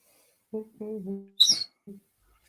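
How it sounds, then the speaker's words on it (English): A pet parrot gives a few short, close squawks and chirps, including one sharp shrill call, with brief silences between them. "Sorry, that's the bird squawking."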